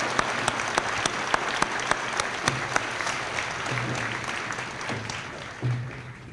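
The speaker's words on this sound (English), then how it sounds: "Please join me in giving them a well-deserved round of applause." Sustained applause from a crowd at an army graduation ceremony at Fort Jackson, steady clapping throughout with a few sharper claps standing out, moderately distant.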